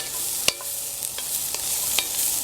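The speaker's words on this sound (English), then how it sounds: "We're gonna give it a stir." A spoon stirs smothered green beans with tomatoes and tasso in a pot over a hot Solo Stove wood fire, scraping in a few sharp clinks over a steady sizzle.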